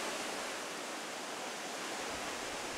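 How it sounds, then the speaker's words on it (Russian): The Dzhurynskyi waterfall, an artificial three-cascade fall about 16 metres high and 20 metres wide in Ukraine's Dniester canyon, gives off a continuous, even rushing roar, heard faintly and alone. "Это самый высокий равнинный водопад Украины."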